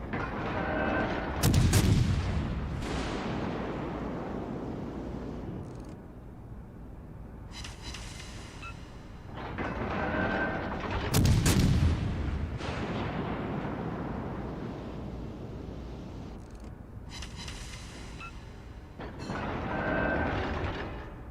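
Heavy cannon salvos boom in a naval video game from a flammable cannoneer, two big volleys about ten seconds apart, each followed by lighter crackling shots, over a steady mechanical rumble.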